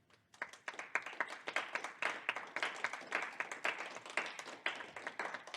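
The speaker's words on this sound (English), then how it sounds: "Clap it up" Audience applause at a hackathon education session on hardware and embedded systems, a steady run of many hands clapping at moderate volume for about five seconds, with no talk over it.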